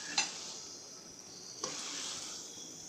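Cubed capsicum sautés with potatoes in a pan, giving a soft, steady hiss of frying with a couple of brief stirring clicks, fairly quiet and close.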